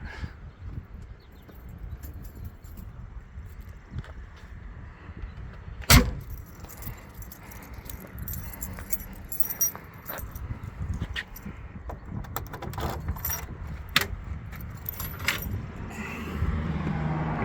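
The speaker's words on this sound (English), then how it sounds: "Get the keys here." Car keys for a 1970 Ford Mustang Mach 1 jangle as they are picked up, a sharp metallic rattle near the start followed by scattered light clinks and handling noises, close and fairly quiet.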